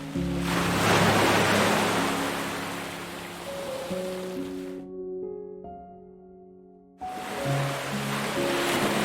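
Ocean surf breaks on a shore in a loud, broad wash that swells and recedes, then drops out briefly before another wave rushes back in, with soft tones underneath.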